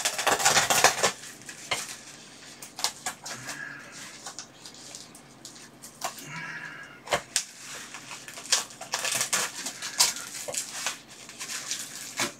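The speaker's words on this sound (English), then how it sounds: "I'm just going to use my pocket knife here." Pocket knife slicing through heavily taped cardboard on a heating-table shipping box, with a busy run of scraping, ripping tape and sharp knocks and rustles, close and fairly loud.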